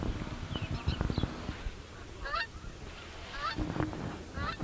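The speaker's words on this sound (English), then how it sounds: "The sound in the background is the sign of the times. The geese are heading south." Geese heading south call overhead in scattered honks at a distance, mixed with low rumbling and knocking from the farm close by.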